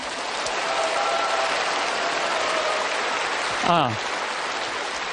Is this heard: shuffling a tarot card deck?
no